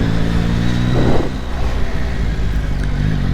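Yamaha MT-09 motorcycle engine running close by, a loud steady growl that swells briefly as it revs, with no talking.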